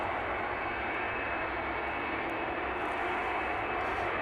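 An aircraft arrives at East Midlands airport with a loud, steady jet engine roar that fills the whole stretch without easing, heard from an outdoor spotting position.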